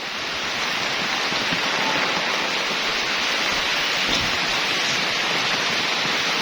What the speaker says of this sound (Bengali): দেখছেন প্রচণ্ড বৃষ্টি হইতেছে